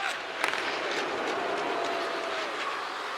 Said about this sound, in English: Constantino's really hearing it from the home crowd right now.